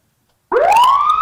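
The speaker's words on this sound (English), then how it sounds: "Do we have any sirens for this one?" A siren wails once for a charity telethon broadcast remotely from Campbellsville, starting abruptly and rising into a loud, sustained electronic tone with no talk over it.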